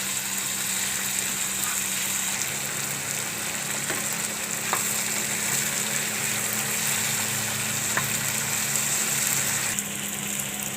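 Tomatoes sizzling in a pan with kantola (spiny gourd) and onion for a Gujarati shaak, a steady broadband frying hiss throughout with a few faint stirring clinks, close and continuous, no talking.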